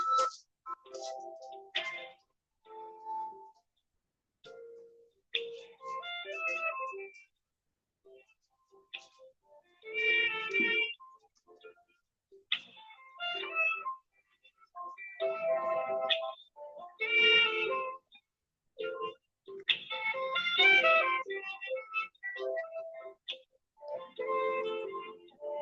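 Telephone hold music plays in a call queue for a White House comment line, a steady electronic melody with a ringtone-like tone that runs continuously with short gaps between phrases, alone with no one talking.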